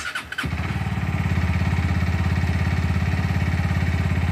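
A Sinnis GPX125 motorcycle engine cranks briefly, then catches and settles into a close, steady idle with an uneven, loping beat, as if running on one cylinder.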